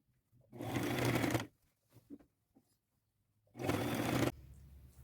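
A sewing machine stitching a seam on thrifted fabric in two loud close bursts of rapid mechanical whirring, with quiet handling noises in the pause between them.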